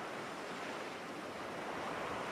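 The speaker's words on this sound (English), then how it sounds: "You can hear the waves." Steady ocean surf washes continuously onto a shore, a broad, even roar of breaking waves with no pauses or voices, heard at moderate level throughout.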